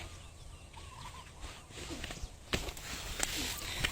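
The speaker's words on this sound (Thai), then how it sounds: "ไก่เยอะดินี่" Chickens cluck and call in the open, several birds close by, with faint footsteps and outdoor ambience around them.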